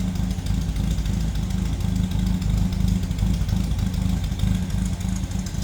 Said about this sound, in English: Inline 4-cylinder, humming away.